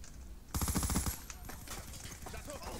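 Rapid automatic gunfire from a Call of Duty Black Ops 2 multiplayer match on Xbox 360, a loud close burst followed by lighter continuing shots over ambient game noise.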